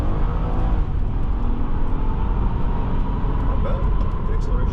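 A 2004 Honda Accord EX-L V6 accelerates at full throttle from inside the cabin, a loud, steady low engine roar mixed with road and wind noise, with a voice speaking over it.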